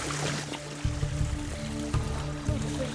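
A small mountain waterfall rushes and trickles in a steady broadband wash, with a few louder splashy bursts, heard close with no speech.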